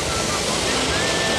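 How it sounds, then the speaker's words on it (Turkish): Waterfall at the EXPO 2016 grounds in Antalya, Turkey: a steady, loud broadband rush of falling water that fills the whole moment without a break. "Hemen yan taraftaysa Antalya'nın sıcağından biraz bizi koruyacak güzel bir şelale var."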